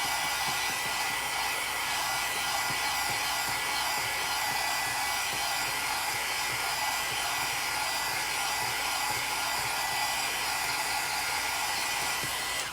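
Hair dryer blowing steadily on a chalk craft transfer, a continuous close whooshing airflow with a constant motor hum that lasts throughout without pauses or talk.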